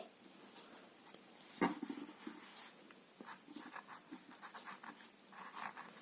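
Pen or pencil writing on a maths worksheet, faint scratchy strokes in uneven bursts close to the mic, with one sharp tap near the start and light background rustle, no talking.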